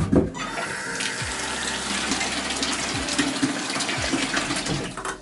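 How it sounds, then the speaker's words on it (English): Water running from a tap into a bucket of sand, a steady gushing pour with splashing and bubbling, loud and close throughout. "Now I'm just gonna go run some water through this."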